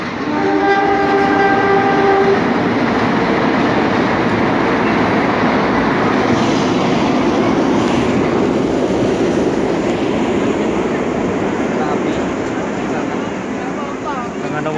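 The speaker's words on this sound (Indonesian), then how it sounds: "Ada kereta api." A train rumbles past loudly and close in Malang, East Java, Indonesia, its horn sounding at the start over a continuous heavy roar of wheels on rails.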